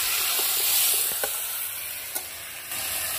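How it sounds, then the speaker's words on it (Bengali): Mixed vegetables and eggplant for a vegetarian panchmishali curry sizzling in a pan: a loud, continuous frying hiss with a couple of brief stirring clicks as the pieces are turned. "সবজিগুলো দিয়ে ভালো করে নেড়ে নেব। এবার বেগুনটা দিয়ে দেবো।"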